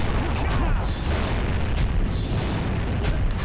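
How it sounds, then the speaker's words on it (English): Boss Klaww hurls rocks in the Jak and Daxter mountain pass game fight, a continuous wash of loud rumbling booms and crashing impacts with no clear breaks. "you just need to dodge where he's shooting the rocks at"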